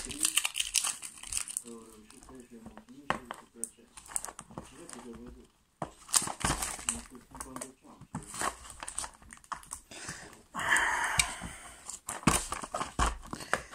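Packing tape crackles and tears loudly as a heavily taped parcel holding audio cassettes is unwrapped, in bursts of crinkling with pauses, while a person talks in between.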